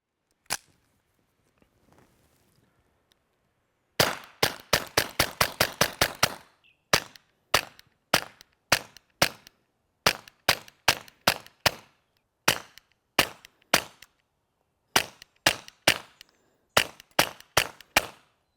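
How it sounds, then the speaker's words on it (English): Suppressed .22 rimfire shots through a Wilson Combat WCR-22 silencer, with one faint early shot, then a rapid string of about ten sharp cracks and many more spaced single shots, crisp and close against near silence. "there's a noticeable first round pop"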